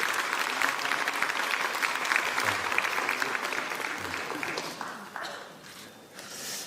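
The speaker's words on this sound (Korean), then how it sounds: "우리 격려의 박수 한번 부탁드립니다" Lawmakers at a party caucus meeting give a round of encouraging applause for a member, Kim Seong-beom, dense clapping that holds steady and then thins and fades toward the end.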